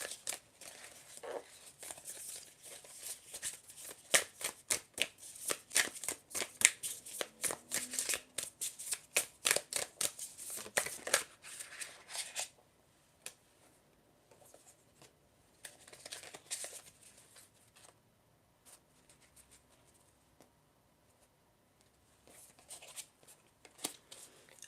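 Tarot cards being shuffled by hand in rapid riffling bursts, loud and crisp for about twelve seconds, then quieter, sparser shuffling with pauses, no talking.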